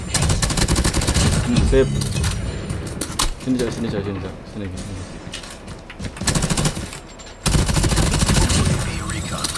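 Call of Duty: Mobile match with loud, rapid automatic gunfire in repeated bursts, broken by short pauses, while players talk over it.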